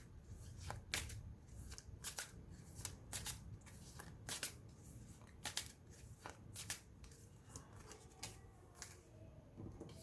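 Tarot cards are shuffled and pulled in a quiet room, a series of sharp riffling bursts and soft slaps repeating irregularly, close but faint.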